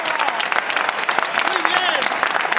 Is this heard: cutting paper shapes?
no